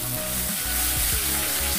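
Boiled greens fry with garlic in a pan, making a loud, continuous close sizzle with a few soft stirring knocks underneath and no talk.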